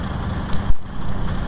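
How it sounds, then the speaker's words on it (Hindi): Diesel locomotive of Pakistan Railway idling at a station platform while coupling to its coaches, a steady low rumble with a brief hiss and a short thump partway through. "ये जो इंजन की आवाज़ है, ये आवाज़ सदियों पुराने रेलवे की कहानी सुनाती है।"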